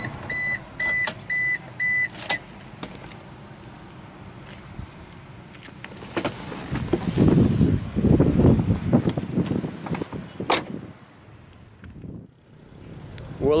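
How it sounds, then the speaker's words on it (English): A 2009 Suzuki SX4 automatic being switched off: a few short chimes and clicks at first, then a low rumble and shuffling handling noise that swells and fades out. "let's turn off this vehicle"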